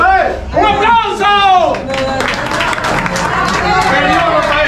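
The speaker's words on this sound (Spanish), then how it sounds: "¡Un aplauso!" Audience clapping and cheering break out after a man calls for applause, with excited voices and shouts over the claps, lively and close.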